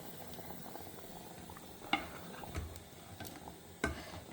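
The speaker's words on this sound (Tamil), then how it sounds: "நல்லா கொதித்து வாசனை வந்துடுத்து." Broad bean tamarind kuzhambu bubbling in a pot, soft steady simmer with a few sharper pops and clicks, close and fairly quiet, with no talking.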